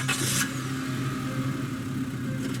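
A police squad car's engine hums steadily in the Scarlet Hollow video game, a continuous mid-pitched drone with a brief brighter rev at the start, heard alone without voices.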